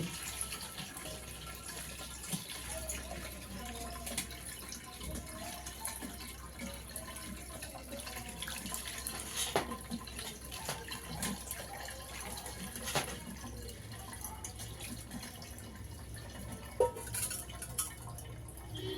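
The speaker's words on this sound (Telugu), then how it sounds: "చూడండి ఇంకా నీళ్ళు పోసి కడుగుతున్నానండి" Water runs and splashes steadily as chhena is rinsed for rasgulla, a faint continuous trickle with occasional louder drips and clatters.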